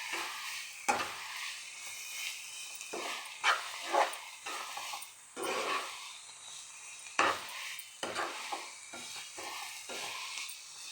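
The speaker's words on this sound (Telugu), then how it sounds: "ఒక స్పూన్ కారం వేసి కొద్దిగా మంచి కలపాలి." Chili powder being stirred into food in a pan, with scraping and stirring strokes and some sizzling, recurring in irregular bursts with no talking.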